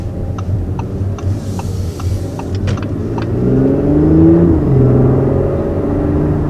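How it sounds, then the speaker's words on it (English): A 2019 Audi S4 pulls away on the street, its engine note rising steadily and growing louder midway as the car accelerates, heard from inside with no talking. "So just tapping into the throttle there for the first time"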